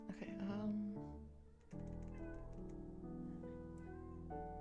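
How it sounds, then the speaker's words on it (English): A pet cat hiding under a bed gives a few drawn-out, close meows, the first loud and strained, then softer, wavering cries, with faint tapping in the background and no talk. "get out from under my bed if you're gonna meow like you're lost"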